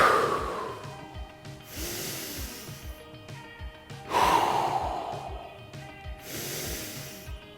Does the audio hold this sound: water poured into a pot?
no